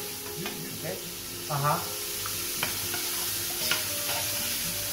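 Onions sizzling in hot, smoking oil for Bulgarian moussaka, a steady crackling fry with occasional stirring clatter while a person briefly murmurs over it.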